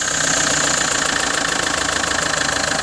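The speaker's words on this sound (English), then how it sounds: "as you can hear the engine starting" A 2005 Fiat Ducato 2.8 JTD diesel engine in a Trigano Challenger motorhome idles loudly and close with a steady, rapid clattering pulse and no voices.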